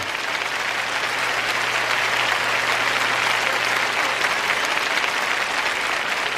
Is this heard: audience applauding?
yes